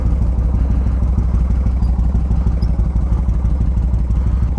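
A Yamaha Road Star Warrior 1700 motorcycle's engine rumbles steadily up close. The deep, even throb holds throughout with no voices.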